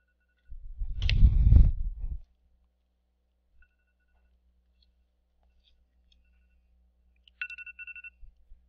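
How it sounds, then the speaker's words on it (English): A mobile phone rings briefly in a quiet room, giving a short electronic chirping tone near the end after an earlier burst of rustling noise and long silence. "That was my phone."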